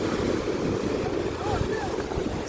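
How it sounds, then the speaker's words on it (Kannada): Strong wind buffets the microphone on a beach at Kaapu, producing a loud, continuous roaring rumble with surf in the background and a few faint higher tones drifting through. "ಸಿಕ್ಕಾಪಟ್ಟೆ ಗಾಳಿ ಇದೆ"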